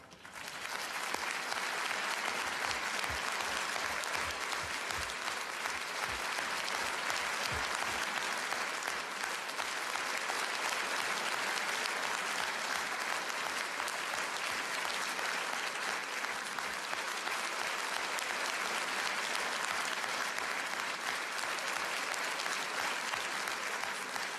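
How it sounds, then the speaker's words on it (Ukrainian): Sustained applause from an award ceremony audience, a dense, steady roar of many hands clapping that fills the whole stretch at even loudness, given as an ovation for national honorees. "А зараз я прошу вас віддати їм усім належне хвилиною вдячних оплесків, хвилиною овацій"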